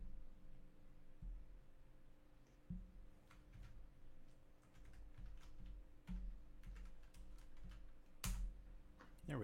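Typing on a computer keyboard: scattered, uneven key clicks and taps, fairly close but quiet, over a low steady background hum, with no talking.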